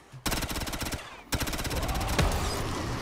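Rapid automatic gunfire from an upgraded Pack-a-Punch weapon in a zombies shooter, two loud sustained bursts of fast repeating shots separated by a short pause, with a sharper crack near the end.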